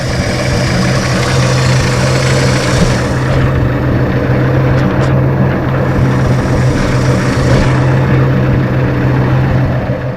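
A 1963 Ford Falcon Futura hardtop engine with noticeable blow-by runs steadily, a loud continuous low rumble and drone that holds even throughout, heard up close with no talk.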